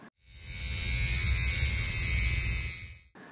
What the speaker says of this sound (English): I am gently touching the flower with an electric toothbrush to shake the flower